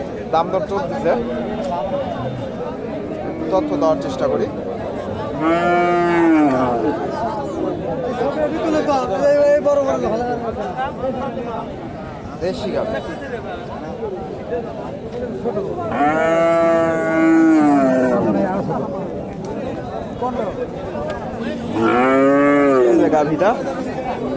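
Cattle at a Bangladeshi cattle market, including a small local cow, letting out several long, loud moos spaced through the stretch while a crowd chatters and people talk nearby.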